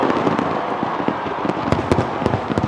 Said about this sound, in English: Look at those fireworks.